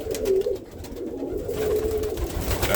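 Roller pigeons coo steadily in a breeding loft, soft low throaty calls repeating close by through the whole stretch with no talking.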